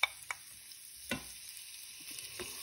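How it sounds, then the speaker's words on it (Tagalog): Onion and garlic sautéing in a pan, a faint steady sizzle broken by a few sharp scraping stirs near the start, middle and end. "Dito sa pan, mag-saute tayo ng ating onion."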